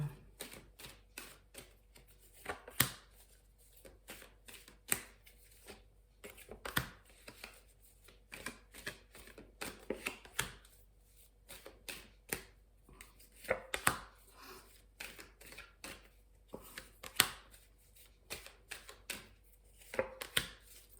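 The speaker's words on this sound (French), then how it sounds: "on va prendre 6 cartes pour les 6 premiers mois" Oracle cards from a mirror-themed deck being shuffled and drawn one by one, giving quiet, irregular dry taps and flicks of card stock with faint rustles between them in a still room.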